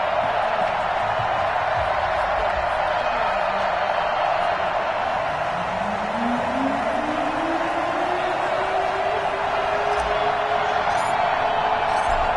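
NFL stadium crowd at a Los Angeles Rams versus Arizona Cardinals game, a loud, constant roar of cheering that carries throughout, with a rising whistle-like tone sweeping up midway.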